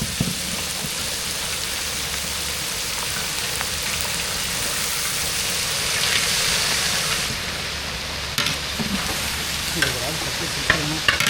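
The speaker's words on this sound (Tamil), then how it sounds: "முட்டைக்கோசு பொரியலுக்கு வந்து எல்லாம் நல்லா வதங்கிடுச்சு" Cabbage poriyal sizzles steadily in a pan on the stove, a dense continuous frying hiss with a few scraping stirs near the end, close and moderately loud, with no voices.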